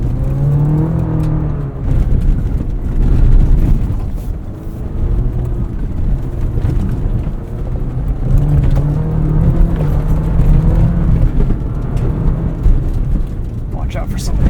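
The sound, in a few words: 2024 Chevrolet Colorado ZR2 pickup driving off road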